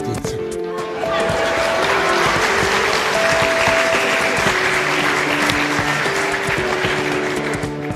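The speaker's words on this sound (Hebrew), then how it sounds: "אני לא יודע למה אתם מוחאים כפיים על זה שלא שכחתי" A studio audience breaks into sustained applause, dense and loud, continuing steadily for several seconds after a brief opening of scattered claps.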